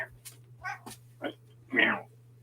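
A pet cat meows several times in short, separate calls of varying length, the last one longest and loudest, close by, over a low steady hum, with no talking.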